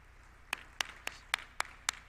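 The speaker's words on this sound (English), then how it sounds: "Let's clap for her." Six sharp, evenly spaced claps, each sounding alone, at a workshop on transnational education, fairly faint against a quiet room.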